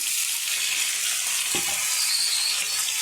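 Flat beans hit a hot pan of lightly browned onion and chili, giving a steady, close hiss of frying with a brief soft knock partway through; no talking.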